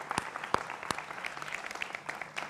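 Brisk, moderately quiet applause from a studio audience welcoming guests on a Hindi TV political debate show, a dense patter of many hands with a few sharper individual claps standing out.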